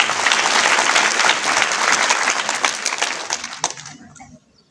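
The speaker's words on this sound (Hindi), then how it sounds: "आप लोग अपने प्रधानाचार्य जी के लिए एक बार तालियां बजा दीजिए" Applause for a school principal at a college function, dense clapping from a crowd that holds steady and then thins out, with a few sharp claps near the end before it fades.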